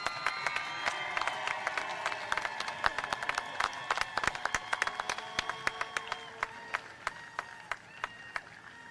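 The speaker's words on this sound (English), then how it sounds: "Big round of applause to the Skyline High School graduates." A crowd at the Skyline High School 2021 graduation ceremony breaks into loud, sustained applause, with dense clapping and sharp individual claps standing out throughout.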